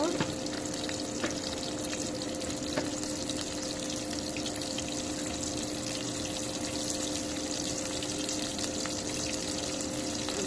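Onion and green chilli fry in a pan with a steady, continuous close sizzle and hiss, fairly loud and unbroken throughout, with a faint hum underneath.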